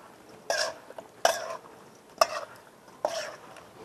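Food being stirred in an unfamiliar container, with four distinct scraping, clattering strokes spaced about a second apart, close and moderately loud over a quiet background.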